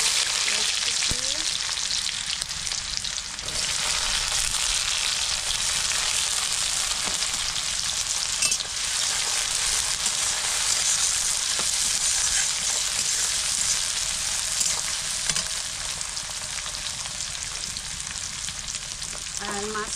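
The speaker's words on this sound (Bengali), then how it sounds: "তেলটা গরম হয়ে গেছে, দিয়ে দিচ্ছি এখন গোটা জিরে" Whole cumin seeds fry in hot oil for a fish curry, a loud, steady, continuous sizzle that holds without a break from start to finish.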